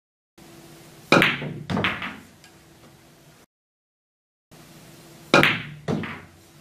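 A pool cue strikes the cue ball for a draw shot in two separate takes. Each take has a sharp close crack followed by a softer knock of balls, with a brief silence between the takes.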